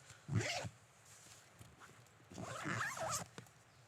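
A zipper on a PGYTECH OnePro camera backpack pocket is pulled in two short rasping strokes separated by a pause, close and fairly quiet.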